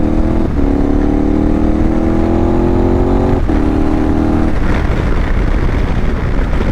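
A KTM 1290 Super Adventure heavyweight adventure motorcycle engine revs and pulls through gears, loud and close, with two rising acceleration runs separated by brief shift dips before settling into a steady roar.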